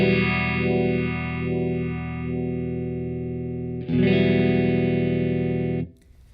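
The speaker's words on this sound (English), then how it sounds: "let's listen as we change the intensity and see how that impacts at a constant speed here again at the mid bias in the chorus setting" A Strymon UltraViolet vibe pedal on its chorus setting at mid bias processes a sustained chord, first sweeping in slow wavering pulses, then jumping louder and steadier as intensity changes before cutting off to near silence.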